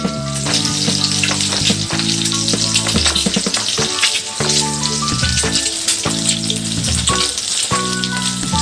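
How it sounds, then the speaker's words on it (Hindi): Peeled boiled eggs, pierced with a knife, frying in hot oil in a pan for egg korma, a loud, close, crackling sizzle with dense popping spatter throughout and no voices. "आइए हम अंडा को फ्राई कर लेते हैं।"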